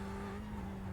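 Race car engine under trail braking in iRacing, a D class Skip Barber or Ferrari sim car, a steady droning tone held throughout with faint tire noise.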